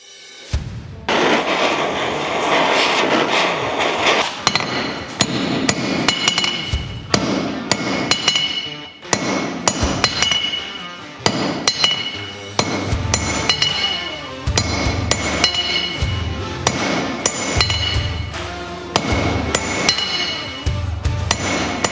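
A metal rivet head being shaped by hand with a hammer: rapid, loud, ringing metallic strikes in continuous bursts, close up, with brief pauses between runs of blows and no talking.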